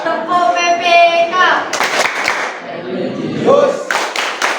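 A class of pupils claps out a rhythmic PPK clap chant, sharp bursts of hand claps mixed with children's voices chanting along.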